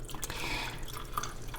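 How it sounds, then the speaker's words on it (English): Liquid pouring and dripping as a generous measure of whiskey goes into a Manhattan cocktail, a soft trickle with a few small splashes, close and moderately quiet. "And I like a nice generous pour after all."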